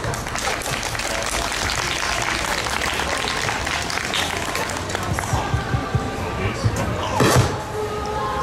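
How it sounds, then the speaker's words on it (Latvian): An outdoor audience at the 2013 Latvian Song and Dance Festival stage in Vērmane Garden, Riga, claps for a folk music ensemble. The dense, sustained applause fades toward the end, and a few thuds follow. "Paldies par uzmanību un aplausiem."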